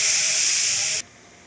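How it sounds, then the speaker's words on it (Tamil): Milk boiling in a pan for a sea moss dessert, a loud, steady, bright hiss heard close up that cuts off abruptly after about a second, leaving a quiet room tone. "பால் கொதிக்குது."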